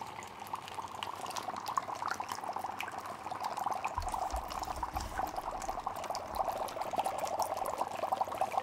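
Steady bubbling and fizzing of dry ice sinking in water, a continuous frothy gurgle with a low rumble joining partway through.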